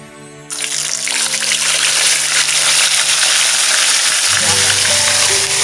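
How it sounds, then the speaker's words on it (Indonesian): Gourami fish drops into hot oil in a pan, setting off a loud, sudden burst of sizzling that continues as a dense, steady frying hiss, heard up close. "Kita goreng ikannya."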